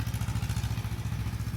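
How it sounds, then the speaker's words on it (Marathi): A farm tractor engine runs steadily close by in open fields during field tilling work, a dense rhythmic low chugging throb that pulses evenly throughout with no voices over it. "हे आपलं ट्रॅक्टर चालू आहे, हे मुंबईकरांचं ट्रॅक्टर आहे."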